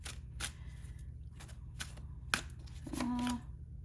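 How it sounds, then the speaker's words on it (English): Oracle cards being shuffled by hand in a series of soft, brief riffling bursts at close range, faint against a low steady hum, with a short tonal squeak near the end. "We'll see if it pops out when I shuffle a little more."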